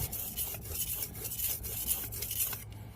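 Steel knife blade worked on a natural sandstone sharpening stone, giving a steady, close gritty rasping scrape with repeated strokes and brief lighter pauses throughout.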